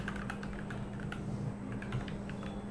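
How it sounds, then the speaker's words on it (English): Keys clatter steadily on a PC computer keyboard as an email address is typed for a Steam account, a quick irregular run of close clicks over a low steady hum, with no talking. "I'm typing the email address here"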